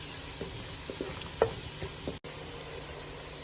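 Garlic and ginger paste frying in a pot, a steady sizzle with a few stirring scrapes and knocks, close and fairly loud, no voices.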